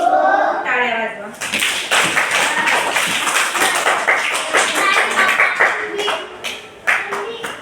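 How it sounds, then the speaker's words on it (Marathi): Schoolchildren in a second-grade ashram school classroom clap together after a teacher's brief spoken prompt. Dense, fast clapping follows, loud and close, and tapers into scattered claps toward the end. "टाळ्या वाजवा."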